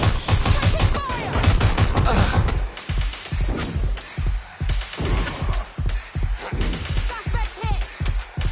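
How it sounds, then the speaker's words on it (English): Rapid, repeated video-game gunfire in Watch Dogs, loud cracking shots in quick bursts and separate pops, with voices talking over parts of the exchange. "Shots fired."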